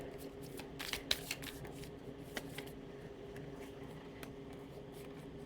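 Oracle cards shuffled by hand for a card reading: soft, continuous riffling and sliding with small slaps, fairly quiet and close, with no talking.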